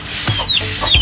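A native rooster courting a Brahma hen, giving a couple of short clucks and calls close by over low rustling in a poultry yard.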